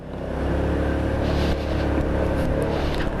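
A Honda Forza 300 scooter's engine drones steadily while riding, a continuous close hum with faint wind rush and no talk over it.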